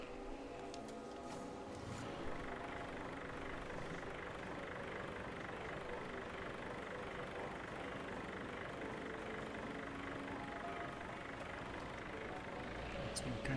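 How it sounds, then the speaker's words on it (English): A 6-cylinder vintage 1954 tractor engine runs in Farming Simulator 22, a steady, rumbling drone at moderate level that barely changes, with talking over it. "Looks like this is a 6-cylinder tractor."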